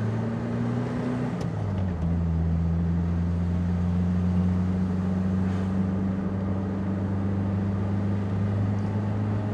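A Renault Caravelle 1100S, rated at 55 horsepower, is pushed hard while climbing a hill. Its engine gives a loud, steady drone that shifts pitch about a second and a half in, then holds a constant note with no talking.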